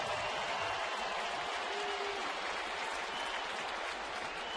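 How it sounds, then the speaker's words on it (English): A baseball stadium crowd applauds steadily, a dense even wash of clapping that holds at the same level from start to finish. "Crowd at the stadium gives Cano a big hand."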